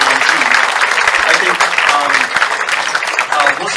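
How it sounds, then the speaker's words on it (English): Dense, sustained applause from a large audience, steady and loud across the whole stretch without a break. "let's just do a big round of applause for the work they did during COVID-19"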